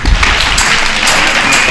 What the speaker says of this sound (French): Si Pierre est là, qu'il applaudisse un peu